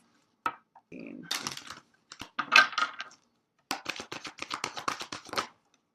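Tarot cards are shuffled by hand in quick bursts of crisp papery flicks and rustles, close and fairly quiet, with short pauses between runs.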